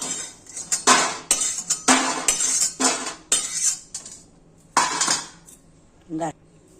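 Metal utensils clink and scrape against a pan while fried lentil dumplings (bori) are lifted out, giving several bright, irregular bursts of clatter close by.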